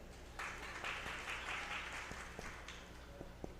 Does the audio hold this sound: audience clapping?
yes